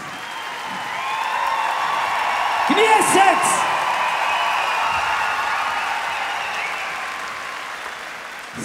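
Loud live concert audience in Visp applauding, with whoops and shouts rising midway; a voice speaks briefly over the steady clapping.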